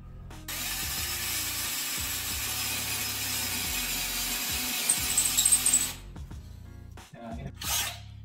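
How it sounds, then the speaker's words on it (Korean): A hammer drill on speed setting 2 whirs loudly and steadily up close for several seconds while drilling for a shower holder, then cuts off, followed by brief clattering and a short burst. "이후에 해머 드릴 기능으로 작업을 하겠습니다"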